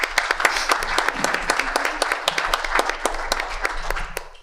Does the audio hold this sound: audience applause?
yes